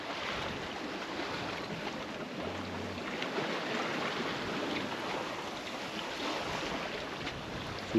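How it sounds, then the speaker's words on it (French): Ocean waves at night heard from a sailboat heading toward the Cape Verde islands, a steady wash of water and wind noise rushing past the hull, continuous and fairly close with no talk. "On voit absolument rien, ni les vagues. On les entend, mais on les voit pas."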